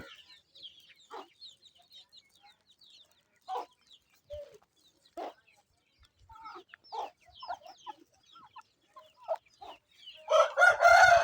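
Desi hen with chicks in a Punjab village yard, repeated short clucks and chirps scattered through the clip, with a rooster crowing loudly near the end; fairly close and clear with no talking.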